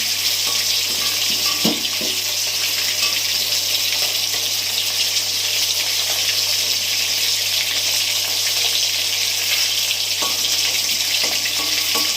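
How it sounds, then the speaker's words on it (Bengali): Hilsa fish frying in hot oil in a pan, a loud, steady close-up sizzle with a few soft clinks of a utensil, no talking. "মাছ তো বেশি ভাজবো না, এটা আমি তুলে নিচ্ছি"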